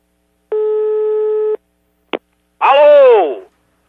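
A telephone call connects: a steady ringback tone lasts about a second, then a short click, then a brief voiced burst as the line is picked up.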